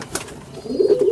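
A fancy Mattas-type pigeon from Uttar Pradesh lets out a short, low rolling coo that rises toward the end, close by, after a brief quiet stretch.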